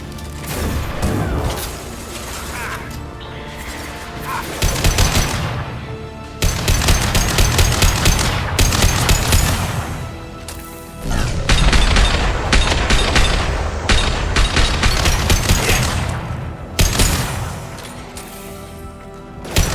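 Rifle fire in the Mass Effect 2 Legendary Edition video game: repeated bursts of loud gunshots and impacts over a dense layer of combat noise and music, with occasional booms throughout.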